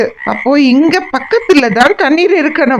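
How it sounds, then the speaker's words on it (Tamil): Loud frog croaking rises from a large valley in an animated children's story, with repeated warbling calls that overlap with a narrator speaking throughout. "இந்த பக்கம்தான் ஒரு தவளையின் குரல் கேக்குது."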